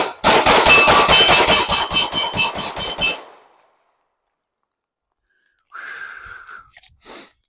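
A Glock 45 pistol fires a rapid string of about a dozen loud, close shots in three seconds, then silence, followed by a short burst of voice near the end.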